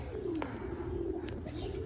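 Pigeons coo softly and repeatedly in a low, throaty rhythm, with a couple of faint chirps above a steady background hum.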